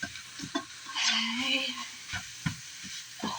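Ground beef browning in a hot pan for beefy noodles, a soft sizzle with scattered stirring scrapes and clicks, close and fairly quiet with no talk.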